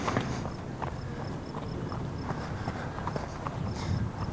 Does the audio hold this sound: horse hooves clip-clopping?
yes